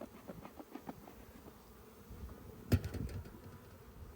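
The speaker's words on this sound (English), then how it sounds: "Oh, and I got some bees in here." Honeybees buzz inside an opened hive box during an Oklahoma inspection with a smoker, a faint steady hum with a few scattered sharper buzzes and one louder burst near the end.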